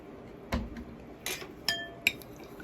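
Glassware clinks several times as vinegar containing acetic acid is added to a solution, with sharp, ringing taps spaced apart over quiet background.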